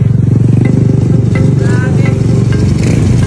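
A Rs125 motorcycle engine with a ported head, flat piston and 6.0-lift cam revs high, making a loud, steady buzzing drone that holds for the whole stretch, with faint voices beneath it.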